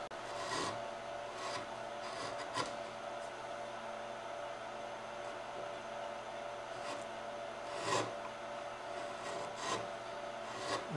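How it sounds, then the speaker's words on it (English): A back bent gouge carves wood in a steady, faint rasping scrape, with a few slightly stronger strokes and no talking. "There's nothing magical about a back bent gouge."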